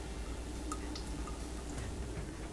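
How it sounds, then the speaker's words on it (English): Tomato sauce pours into a slow cooker greased with nonstick spray while cocktail meatballs are being prepared. A soft, wet dribble and a few small drips sit over a steady low background hum, with no talking. "Now we're going to add the tomato sauce."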